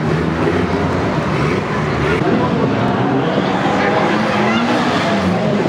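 Car engines at a drift event, a loud continuous roar and rumble close by, with someone talking over it.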